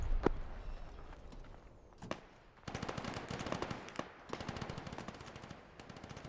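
Rapid automatic gunfire in the military shooter Arma during a night convoy co-op mission, coming in dense repeated bursts separated by brief pauses, moderately loud with no talk over it.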